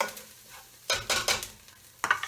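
Onions for white chicken chili sauté in a pan until caramelized and translucent, with bursts of stirring and scraping over a soft sizzle, loud and near, separated by brief quieter pauses.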